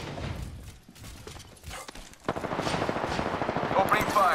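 Rapid automatic gunfire in the battle royale video game Apex Legends, loud and close: bursts early on, then a dense, sustained stream of shots from midway to the end.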